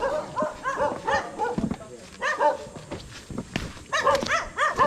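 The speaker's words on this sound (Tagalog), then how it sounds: "Dami pala ditong aso." Several dogs bark repeatedly in bursts nearby, overlapping one another, with a person's voice briefly mixed in.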